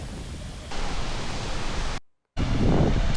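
Todoroki waterfall at Ureshino, Saga, Japan, running strongly after steady rain: a constant loud broadband rush of falling water with no voices, broken by a brief cut to silence before the roar resumes.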